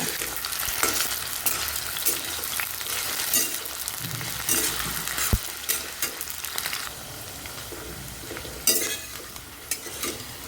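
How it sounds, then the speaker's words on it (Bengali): Plain unsalted potatoes fry in a pan with a continuous sizzle, broken by stirring scrapes and a few sharp utensil clinks that ease off toward the end. "এমনি আলুগুলোকে একটু ভেজে নেব।"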